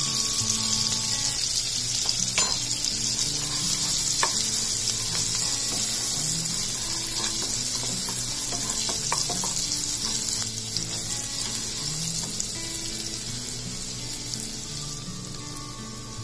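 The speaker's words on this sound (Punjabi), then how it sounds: "ਜਦੋਂ ਆਪਣਾ ਇਸ ਦੇ ਵਿੱਚ ਲਸਣ ਥੋੜ੍ਹਾ ਜਿਹਾ ਭੁੰਨ ਹੋ ਜਾਊਗਾ ਫਿਰ ਆਪਾਂ ਇਸ ਦੇ ਵਿੱਚ ਅਦਰਕ ਪਾ ਦੂੰਗੇ।" Garlic and ginger fry in a pan for Punjabi sarson ka saag, giving a steady, close sizzle with occasional stirring scrapes and clinks throughout, and no talking.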